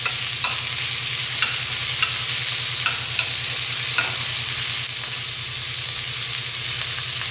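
Garlic and onions sizzle steadily in a hot pan for a puttanesca, close and fairly loud, with a spoon scraping and stirring in regular strokes throughout.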